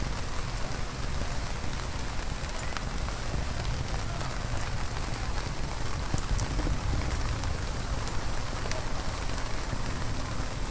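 Steady rain falling, a continuous dense hiss of drops on surfaces with faint scattered taps, unbroken throughout.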